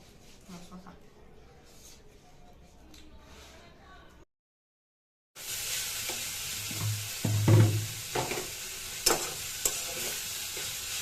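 Bitter gourd (ustha bhaji) frying in a pan, a steady close sizzle with scraping stirs and a few louder clatters, following a quiet stretch of faint kitchen noise and a brief silence.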